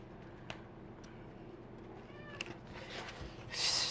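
A cat meows a couple of times, short and fairly close, over quiet room noise, with scattered small clicks and a brief rustle near the end.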